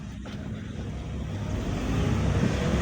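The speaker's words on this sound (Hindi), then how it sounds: "ये देखें साउंड चेंज कर गया, अब ये गियर मांग रही है" Engine of a manual car just after it is put into first gear, a low, close rumble that grows steadily louder as the car pulls away, with no talk over it.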